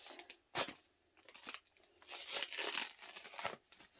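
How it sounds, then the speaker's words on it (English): Tape and sublimation paper peeled off a stuffed fox toy, with crinkling, tearing rustles in several short pulls and a longer steady rip, close and quiet. "peel that tape off and do a little peek"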